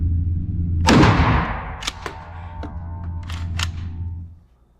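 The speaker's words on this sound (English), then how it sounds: "shooting my shotgun" A Mossberg 590M shotgun fires a single loud blast that rings out and decays over a second, followed by a few sharp mechanical clicks, over a steady low hum.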